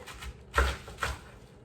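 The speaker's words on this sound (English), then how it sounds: "now that we've cut it in half, we're going to cut it in half again" Knife slicing through cabbage quarters for kimchi, two crisp close cuts in quick succession against a board with light rustling between.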